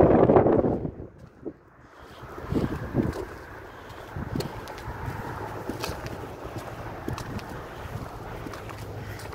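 Wind gusting across a snow-covered sidewalk area in Illinois, beginning with a strong buffeting gust against the microphone and then settling into a steady, softer rush with faint scattered ticks.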